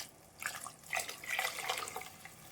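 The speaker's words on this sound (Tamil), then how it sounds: "மிக்ஸி கழுவி விட்டு விடணும்." Tap water runs into a mixer grinder jar being rinsed out while cooking Kerala-style fish curry, a splashing, uneven trickle with a few louder bursts, heard close and without talk.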